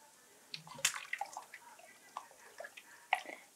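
Close, quiet splashing and trickling as nearly two liters of water are poured into a pot of Transylvanian csorba soup, with irregular drips and small sloshes.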